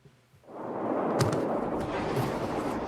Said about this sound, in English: Extraordinary images tonight of deadly explosions felt by millions in Lebanon.